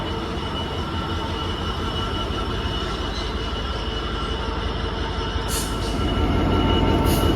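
Locomotive 66508 passes on the West Coast Main Line with a steady heavy rumble of engine and wheels, growing louder near the end, joined by brief high wheel squeals.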